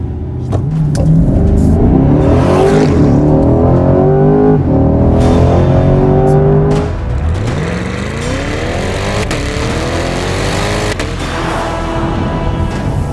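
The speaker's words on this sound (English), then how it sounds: "I press it, the baffles in the exhaust open up." A 2023 C8 Corvette Stingray's mid-mounted engine roars loudly with exhaust valves open, revving up and shifting, then rising again in a sustained, throaty howl.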